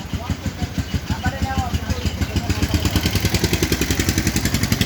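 A 2023 Bajaj Discover 110 motorcycle idles close by with a steady, rapid engine putter that grows slightly louder and firmer over several seconds, running alone without talk.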